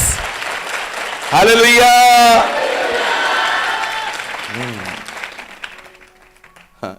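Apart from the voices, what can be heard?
congregation applauding in church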